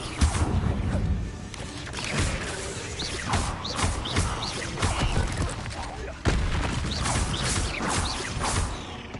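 An Incendio fire spell is cast in the video game Hogwarts Legacy, producing repeated bursts of crackling, booming impact sounds and whooshes amid other game noise, with some talking over it.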